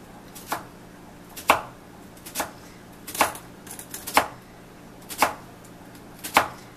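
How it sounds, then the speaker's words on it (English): Knife chopping an onion on a cutting board for guacamole: seven sharp, separate cuts spaced roughly a second apart, each one crisp and close, with a faint hum underneath and no talking. "And then I'm going to chop up my onion."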